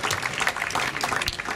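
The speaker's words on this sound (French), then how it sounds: "Applaudir les carillonneurs et applaudir les carillonneurs." Audience applause for the carillon players at the inauguration and blessing of a renovated carillon, a steady, moderately loud patter of many hands clapping through the whole short stretch, with no break.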